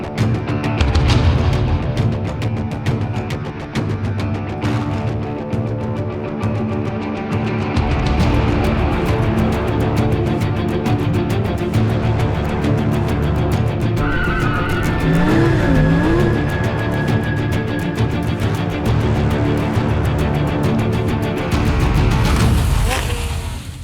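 Lamborghini Huracan LP 610-4 on a tire and brake test, engine roaring and revving loudly with sustained tire squeal and skidding, surging and easing across the run, close and forceful.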